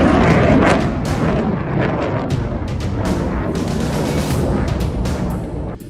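Missile interception explosions from an American THAAD strike on a Houthi missile, heard as a dense, continuous roar of booms and sharp cracking bursts, loud and distorted throughout.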